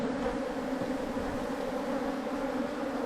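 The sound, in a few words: honey bees buzzing around an opened hive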